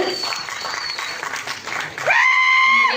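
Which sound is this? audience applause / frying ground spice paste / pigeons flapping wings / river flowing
audience applause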